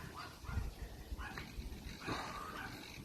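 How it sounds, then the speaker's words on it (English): A neighbour's dog barks and whimpers repeatedly at a distance, short yaps spread across a few seconds over a busy background hiss, with no clear talk. "neighbour's got an annoying dog. He just barks all the time."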